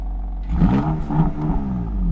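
BMW M4 Competition from 2018, running in M mode, revs with rising rumbling bursts that swell and fall twice, close and fairly loud over a steady idle.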